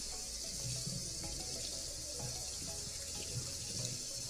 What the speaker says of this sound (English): And then just rinse.